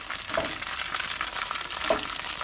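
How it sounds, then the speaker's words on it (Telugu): Red chilies fry in hot oil for a chili chutney, giving a constant crackling sizzle with two brief scraping stirs about a second and a half apart. "పండుమిరపకాయలు నూనెలో వేగాలి నూనె కాసేదాకా వేయించుకోవాలి"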